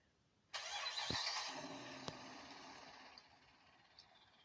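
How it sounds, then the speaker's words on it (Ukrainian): A bus engine in Proton Bus Simulator Urbano starts with an abrupt whirring crank that settles into a steady idle, a couple of sharp clicks along the way. "Ну що, заводимо двигун."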